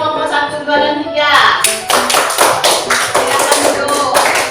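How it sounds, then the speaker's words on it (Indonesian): Students in a classroom clap for group representatives, a sustained burst of close, lively hand claps that begins partway in and overlaps with a voice speaking. "Ya, tepuk tangan untuk perwakilan kelompok 1,"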